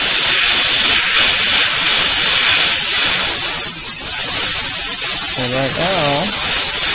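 Airbrush spraying paint onto an RC car body at around 60 to 80 psi, a steady loud hiss running throughout while a person talks over it.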